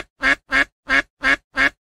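Ducklings quack in five short, evenly spaced calls, loud and close, each a brief nasal burst with clear gaps of silence between them.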